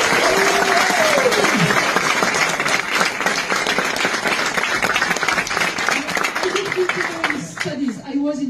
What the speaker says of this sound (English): you can applaud the girls